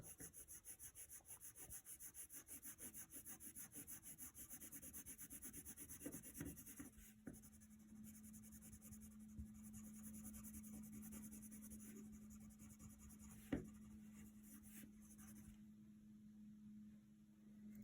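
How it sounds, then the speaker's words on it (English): A pencil shading on paper in a children's drawing lesson, a soft continuous rhythmic scratching of quick back-and-forth strokes, close and quiet, with no talking. "just lighten up on your pencil a little bit and shade the rest in, working left to right"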